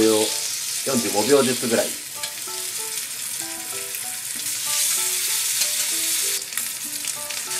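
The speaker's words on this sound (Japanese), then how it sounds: "ちょっとだけオリーブオイルを引いて強火で、今回のは薄めなんで、だいたいまあ両面30秒ぐらいずつ焼きます。" A thin steak sears in a little olive oil over high heat, a continuous loud hiss and crackle that runs beneath a voice and background musical tones.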